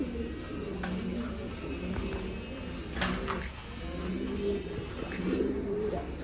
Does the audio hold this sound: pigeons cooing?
yes